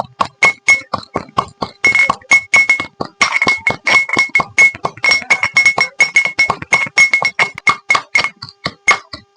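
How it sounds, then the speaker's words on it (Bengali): Tulsi basil leaves pounded in a mortar and pestle give a steady run of sharp knocks and clinks, dozens of hits in quick, even rhythm, loud and close, with no talk. "এরপর দেখুন ভালো করে কিন্তু থেতো করে নিতে হবে"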